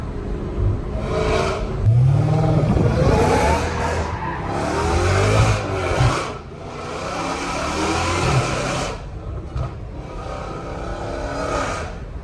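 An 850hp Dodge Hellcat Redeye engine revs hard toward redline, a loud, sustained roar with repeated surges that echo off nearby brick walls, heard close up with no talking.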